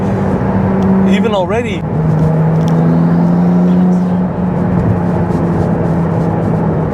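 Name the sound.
Ferrari 296 engine and intake noise while driving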